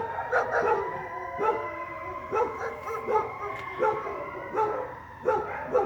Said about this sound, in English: Every dog in the neighborhood's going crazy.